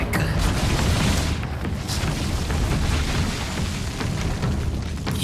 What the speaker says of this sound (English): It's a rock breaker.